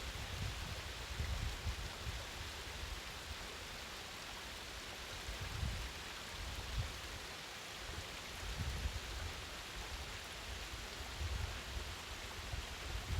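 Partially frozen Urach waterfall in winter, water pouring over limestone tufa as a steady, broad rushing roar, constant and fairly distant with soft low surges and no voices.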